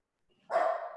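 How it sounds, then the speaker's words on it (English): A single dog bark sounds from the background, short and fairly loud after a brief quiet start. "Sorry, dog in the back."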